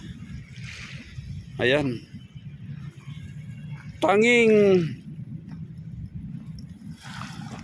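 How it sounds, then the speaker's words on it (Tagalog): Small waves lap gently along a sandy beach shore in a soft, continuous wash. A person speaks briefly twice over the water. "Parang mga naglalarong alon dito po sa dalampasigan, yun po naririnig natin dito."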